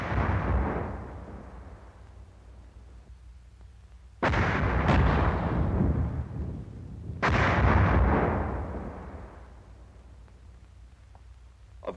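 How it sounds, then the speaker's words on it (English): Mortar shells firing and bursting at a World War II training range: three heavy booming blasts spaced a few seconds apart, each with a long rumbling decay, loud and without speech. "an exploding mortar shell can kill"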